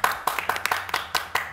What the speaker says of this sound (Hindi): बजा ले हमने तालियां, बजा ले।